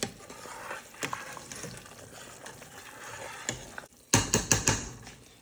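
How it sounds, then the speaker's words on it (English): Chicken soup bubbling and sizzling at a boil in a pot, then a few distinct scraping clinks of a utensil stirring near the end. "Let's give it a little stir."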